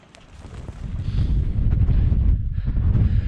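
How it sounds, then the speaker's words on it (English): Gale-force wind buffets the microphone on a cold, misty hillside in the Cheviots, a loud, steady low rumble that builds over the first second and stays strong, with no voices. "That wind's got a bit of bite to it"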